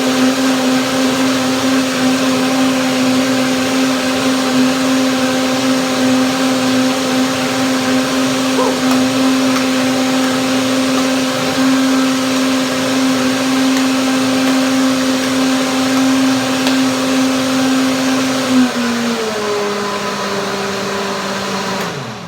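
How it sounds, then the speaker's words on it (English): A blender runs steadily, mixing an avocado, walnut and pineapple pudding, a loud continuous motor whine that holds pitch for about twenty seconds before dropping as the load shifts near the end. "Blender dance,"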